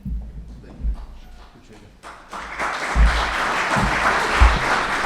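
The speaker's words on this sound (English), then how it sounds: "It's okay to clap." An audience at a government clean energy event breaks into applause, a broad wash of many hands that swells from a quiet start and holds steady, with a few low thumps and murmured voices beneath.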